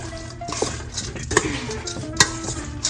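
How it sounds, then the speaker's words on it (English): Cabbage salad tossed with dressing in a mixing bowl, utensils scraping and clinking against the bowl in irregular strokes, with a couple of sharper clanks standing out, close and fairly loud. "So I'm just gonna mix it all together in this mixing bowl"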